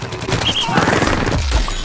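Football cannon firing in Plants vs Zombies Garden Warfare, a loud burst of rapid, overlapping booming shots with game effects, heard up close and alone.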